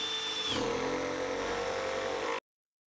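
A Milwaukee M12 driver running screws, a steady close whirring motor with a pitch drop early on, holding for about two seconds before stopping abruptly into silence.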